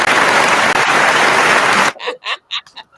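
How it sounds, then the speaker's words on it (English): Dense, steady crowd clapping at a soul line dance fills the first two seconds, then stops abruptly as a voice begins speaking in short bursts. "I want to hear that clapping, Marquise."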